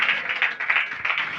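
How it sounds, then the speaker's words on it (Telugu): A church congregation claps together during a sermon, giving dense rapid clapping with a slightly pulsing rhythm, loud and close throughout. "ఆమేన్ చెప్పి చప్పట్లు కొట్టాలి ఇప్పుడు"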